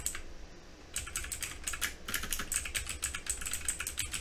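Rapid keystrokes on a computer keyboard while code is typed, a steady close run of clicks with a short pause near the start, heard alone without talk.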